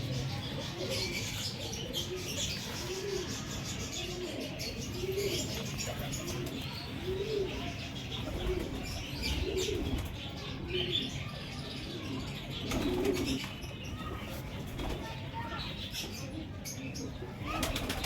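Breeder and flying pigeons coo in repeated low, throaty phrases close by, with occasional wing flaps and a steady background hum while people talk nearby.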